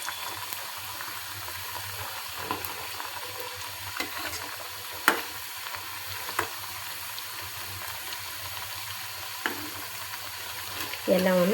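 Food sizzles steadily as it deep fries in hot oil, with occasional stirring clinks and scrapes over the constant bubbling hiss.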